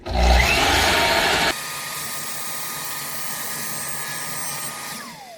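Hand saw slicing through a ceiling molding frame for indirect lighting, a loud, close rasping burst of cutting at the start, then a quieter steady hum and light scraping as the stroke eases off.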